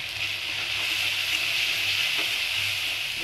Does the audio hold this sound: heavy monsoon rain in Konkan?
no